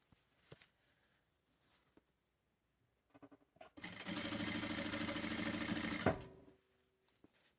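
A sewing machine stitching fabric for a headband runs for about two seconds in a loud, even whirring burst. Quiet handling clicks and fabric rustles come before it.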